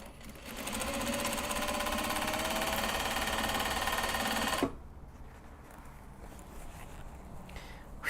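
A sewing machine runs a straight seam, a loud, even mechanical whir with rapid needle chatter for several seconds, then stops abruptly, leaving quiet room noise and faint handling sounds.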